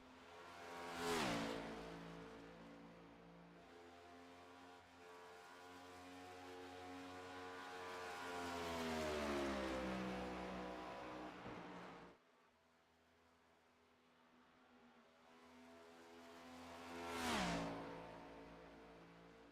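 Race cars roaring past at Kansas Speedway in the iRacing game, two sharp close passes bracketing a long rising and fading engine drone, no talk.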